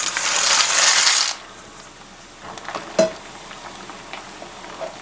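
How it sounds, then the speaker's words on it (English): Bowtie pasta drops into rapidly boiling, heavily salted water in a kitchen: a loud bubbling rush for over a second, then a clatter and quieter simmering with small knocks. "Okay, so let's go put the pasta in there."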